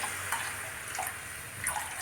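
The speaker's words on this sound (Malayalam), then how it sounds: "നമുക്ക് ഒരു സ്വല്പം ഉപ്പ് വെള്ളം ഒഴിക്കാവേ" Salted water is poured into a cooking pot for millet upma, a steady, close splashing stream that runs briefly on its own.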